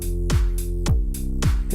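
Music from an MPC Live heavily compressed through an Alesis 3630 hardware compressor, pumping in a steady rhythm, with punchy low thumps and squashed, even loudness throughout, no voices.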